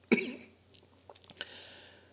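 A single close cough bursts out at the start, then a few faint small mouth and throat noises follow in a quiet room.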